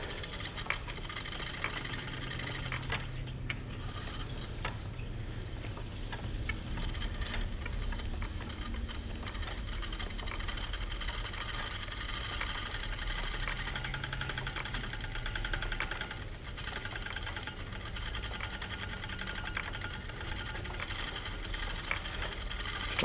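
An Ashford Traditional spinning wheel with a spindle attachment winds yarn in a steady, faint mechanical whir with a soft repeating tick-like knock, continuous for over twenty seconds with no talking.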